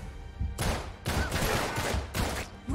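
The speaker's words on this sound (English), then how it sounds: "I shot that guy four times in the chest" Gunshots in Uncharted 3 ring out as four loud, sharp blasts about half a second apart, each with a brief ringing tail, over a low hum of game background.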